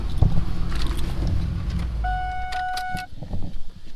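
A car engine idling roughly with a slight misfire, running rich, close by with uneven stumbles in its rumble and a brief high-pitched tone partway through.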